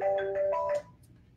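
A 3CX web client plays a ringing tone for an outgoing phone call, a short electronic melodic ring that stops abruptly into faint background hiss.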